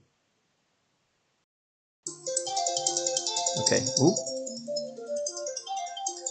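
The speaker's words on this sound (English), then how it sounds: "That's a phone call." A phone rings with an incoming call during a board game, its electronic tone loud and close. A person speaks briefly over it.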